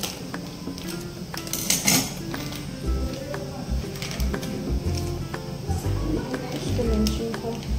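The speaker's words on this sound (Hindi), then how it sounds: "जहाँ तक मुझे पता है खिचू को बेलन से मिक्स किया जाता है" Khichu rice flour dough being worked with a rolling pin in a pan, producing irregular knocking and scraping clinks close by, under steady talking throughout.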